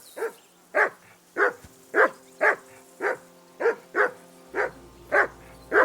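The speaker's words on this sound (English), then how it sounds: "I assume you can hear that damn dog of yours barking." A dog barks in the video game Kingdom Come Deliverance 2, about ten evenly spaced loud barks in a steady rhythm, close by with no talk.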